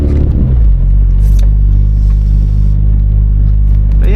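A turbocharged project car drives on a rainy night, its deep engine rumble steady and loud from inside the cabin, with light road hiss and a brief rustle above it.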